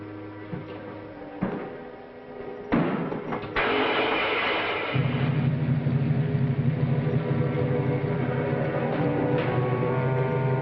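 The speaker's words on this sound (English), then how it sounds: "Start the motor." An old car motor turns over and settles into a steady, rumbling idle that runs continuously after a few clunks and knocks, close and fairly loud, with no talk over it.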